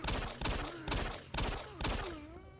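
Pistol gunfire in the video game Doom 3, five loud evenly spaced shots with ringing tails, dense and close with no voices over them.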